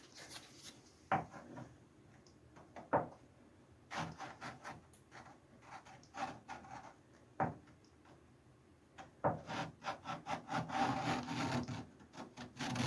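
Hand sanding on the body of a Ford Escort MK1 under restoration makes irregular scraping, rasping strokes, some louder and closer, with short pauses between passes.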